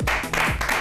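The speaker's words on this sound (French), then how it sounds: "On va encore l'applaudir, s'il vous plaît." Studio audience applauding a guest on an Ivorian evening TV talk show, a short, fairly loud burst of dense clapping with no voices over it.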